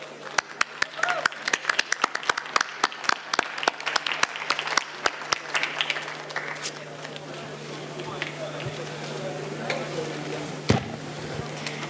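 Scattered clapping at an international policy award ceremony, sharp individual claps at first that thin out into sparse, quieter claps over a low background hum.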